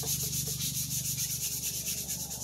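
Steady, continuous buzzing rasp of a palm sander working over a 3D printed piece, close and even throughout with a constant motor whine and no pauses or talk.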